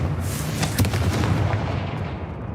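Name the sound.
Confringo explosive spell cast in the video game Hogwarts Legacy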